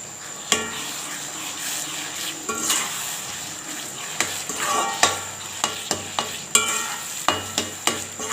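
Ginger cooks with thick tamarind water in a pan for a traditional mango-ginger pickle, a soft steady sizzle broken by repeated metallic scrapes and taps of a spatula stirring.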